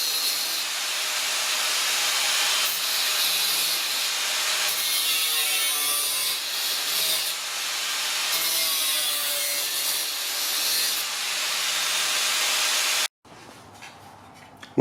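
An angle grinder cuts through the steel body panel of a Ford ZF Fairlane under restoration, a steady loud hissing, rasping whine that runs for about thirteen seconds before stopping abruptly.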